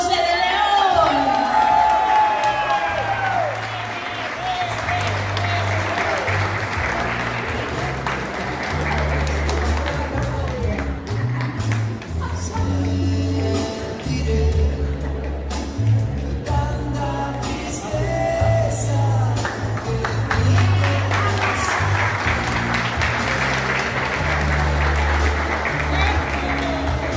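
Steady, sustained applause from a large crowd welcoming the environment secretary, Viviana Ponce de León, at a public event, with scattered claps and cheers over a dense, continuous texture lasting throughout.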